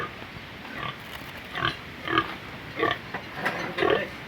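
A pig grunting and snuffling repeatedly in short bursts, close by, over a steady background hum.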